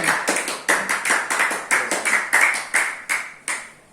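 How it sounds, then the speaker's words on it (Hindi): On a quiz show stage, audience clapping welcomes a contestant couple with a steady string of sharp, evenly spaced claps, about a dozen crisp hits that ring briefly in a reverberant room and trail off near the end. "जोरदार तालियों के साथ उनका स्वागत किया जाए।"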